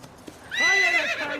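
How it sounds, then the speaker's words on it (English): A thoroughbred mare gives one loud, close whinny lasting under a second, rising then falling in pitch, after a brief quiet lead-in with a faint thump. "She's a splendid horse."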